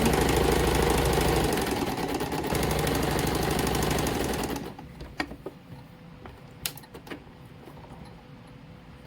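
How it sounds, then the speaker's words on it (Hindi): A sewing machine stitches the side seam of a suit with a fast, steady mechanical chatter for about four and a half seconds. It then stops, leaving faint clicks and fabric handling sounds. "इसी तरह हम दूसरी साइड फिटिंग का दूसरी साइड सिलाई लगाते हैं।"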